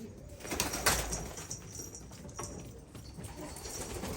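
Filo pigeons in a loft give soft cooing and fluttering wingbeats, close by, over steady background noise.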